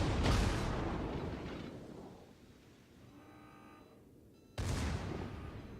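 Naval guns firing high-explosive shells during a warship battle in a video game: a deep, booming blast opens, decays into a rumbling tail, then a second heavy report bursts out near the end.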